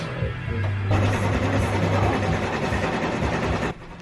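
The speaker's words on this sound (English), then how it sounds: "what I just showed you was a little sewing machine" A small sewing machine whirs in a personalization shop in downtown New York, starting up and running in a steady fast mechanical chatter for about three seconds, then stopping abruptly.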